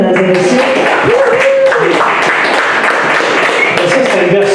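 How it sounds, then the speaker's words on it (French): Studio audience applauding a singer on an interview show: a loud, dense, steady wash of clapping fills the whole stretch while a voice talks over it. "On peut l'applaudir, mesdames et messieurs."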